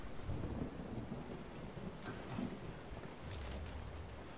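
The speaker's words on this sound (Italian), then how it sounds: "Piove pure." Continuous rain hiss with low rumbles of thunder in the video game Resident Evil 7, a steady stormy ambience without talk.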